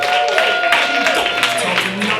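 A comedy club audience applauds and cheers for comedian Mike Morrison, a loud, dense wash of clapping with voices mixed in.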